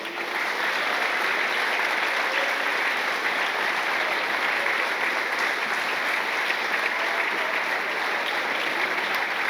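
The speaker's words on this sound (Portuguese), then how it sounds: "Dê a melhor salva de palmas aí." A church congregation claps steadily in sustained, dense applause, evenly loud from start to finish with no distinct rhythm, filling the room without voices rising above it.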